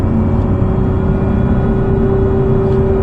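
Steady engine drone and road hum from inside a 2024 Lotus Emira V6 on the move, constant and fairly loud with a faint whine, no talk.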